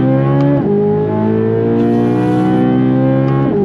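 Chevrolet C8 Corvette Z06 pulling hard on throttle in second gear, its engine howl climbing steadily in pitch, loud and close from inside the car, with a quick gear-change dip near the start and another near the end.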